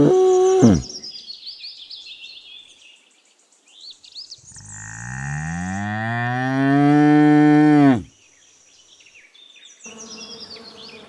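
A bull bellows a long, deep, rising moo that swells over several seconds, preceded and followed by buzzing insect sounds and other animal calls in a sequence of farm animal sounds.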